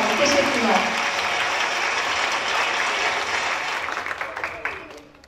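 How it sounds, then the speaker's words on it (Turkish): Crowd applause for a students' drama performance at a school campus event day: dense, sustained clapping that starts loud and gradually thins and fades toward the end, with some voices mixed in. "Bir alkış da ben istiyorum onlar için."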